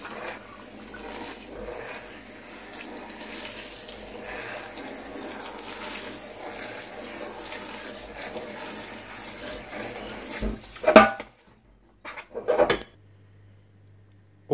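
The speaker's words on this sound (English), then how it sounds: "I'm just going to soak it and get it wet" Tap water pours steadily as it soaks broccoli microgreens growing medium, followed by a few brief clunks and clatters near the end as the flow stops.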